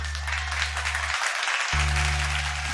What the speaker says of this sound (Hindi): जोरदार तालियां सूर्य कमल के लिए दोस्तों।